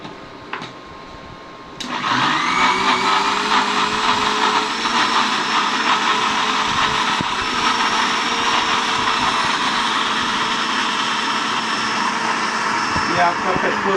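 A mixer grinder blends pesto. After a quiet start, the motor switches on with a sudden loud, steady whirring drone that holds at high intensity for the remaining twelve seconds or so.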